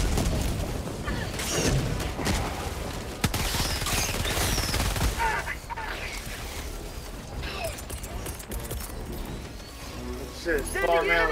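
Rapid gunfire and a grenade blast in the co-op shooter game Helldivers 2 form a dense, chaotic barrage of shots and booms, while players talk over the din.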